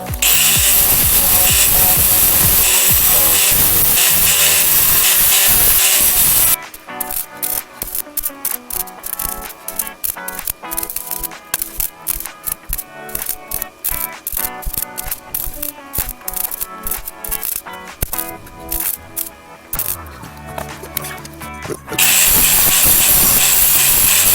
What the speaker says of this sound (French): On va essayer de meuler et on verra déjà.